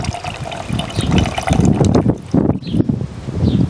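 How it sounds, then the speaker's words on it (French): Tequila poured into a glass while making a Tequila Sunrise, a close liquid trickle and gurgle with uneven splashy bursts and small clinks over a few seconds. "On va rajouter 4 centilitres de tequila."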